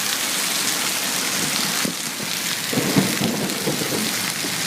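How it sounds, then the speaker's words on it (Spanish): Heavy rain pouring steadily with low rumbles of thunder rolling through, loud and continuous with no voices. "los truenos que se escuchan aquí son comunes como en cualquier otro lado"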